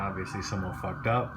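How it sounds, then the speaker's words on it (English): Sirens wail faintly in the background, rising and falling beneath someone speaking close by. "Please excuse the sirens in the background."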